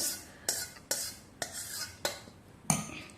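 A spoon stirs oil into dry tomato pickle, giving about six separate scraping, clinking strokes at a steady rhythm, each sharp at the start and then fading, close and moderately quiet with no talking.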